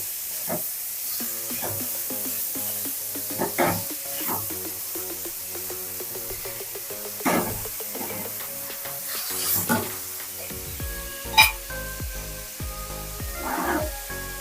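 Vegetables for veg fried rice sizzle in a pan over a high flame, giving a steady frying hiss broken by occasional stirring scrapes and clinks, with a low hum running underneath.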